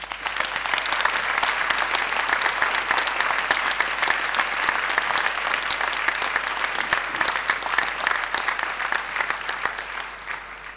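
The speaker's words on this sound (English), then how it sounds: "a round of applause for the families and friends" Graduation ceremony audience applauding families and friends: sustained, dense clapping from a large crowd that fills the hall evenly for the whole stretch, tapering slightly at the very end.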